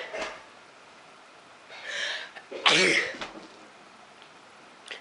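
A single close, sharp human sneeze bursts out after a short intake of breath, with a few faint breaths and rustles around it in an otherwise quiet room.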